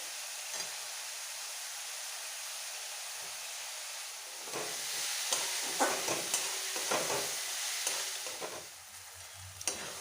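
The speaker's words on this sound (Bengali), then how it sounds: "পেঁয়াজ আর টমেটো খুব ভালোভাবে ভেজে নিয়েছি" Onions and tomatoes fry in a pan for a chicken and potato curry. After a few quiet seconds, a soft sizzle rises and continues with a few spoon scrapes and clinks, fairly faint and with no talking.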